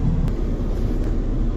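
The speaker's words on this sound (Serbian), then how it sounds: "Evo smo u ovom većem avionu, ovaj je malo bolji." Cabin noise inside a larger passenger airplane, a steady loud low roar of engines and airflow that holds constant throughout with no talk.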